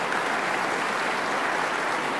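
Sustained applause from an audience at the inauguration of the Grand Mosque of Strasbourg, a dense, even crackle of many clapping hands filling the whole moment without pause.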